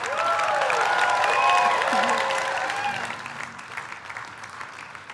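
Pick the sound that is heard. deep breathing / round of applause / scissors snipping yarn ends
round of applause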